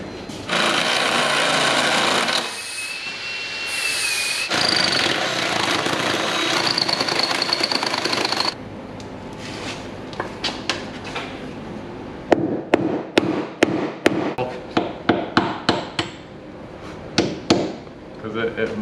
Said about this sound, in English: So all these holes need to be drilled out with this pounded in